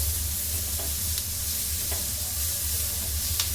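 Chopped tomato stirred into golden brown onions frying in a pan for mushroom masala, a continuous close sizzle with a few light spatula taps.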